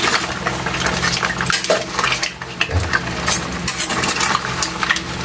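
Spoon scraping and stirring crab and other seafood in a metal pan, a steady clatter of utensil on metal with faint sizzling underneath, close and continuous.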